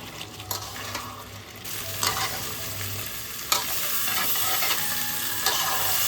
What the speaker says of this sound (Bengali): এবার আমি ভেজে রাখা আলুটা দিয়ে দিচ্ছি। আলুটা দিয়ে মশলাটাকে কষাবো।